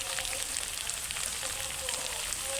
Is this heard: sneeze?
no